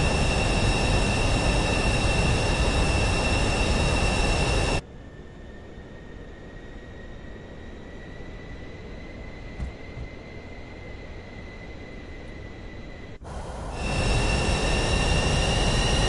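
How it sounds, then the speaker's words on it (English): A big, oversized jet in Flight Simulator 2024 on PS5 gives a loud steady engine roar with high whining tones; it drops abruptly to a quieter hum for several seconds, then surges back to full volume. "Someone's in a big, oversized jet behind me."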